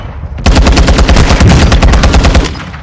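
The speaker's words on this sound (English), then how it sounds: "The mortar's fucking falling." Mortar shells raining down and blasting apart in a video game match, heard as a fast, loud, regular string of sharp bursts starting abruptly after a brief quiet lead-in and thinning toward the end.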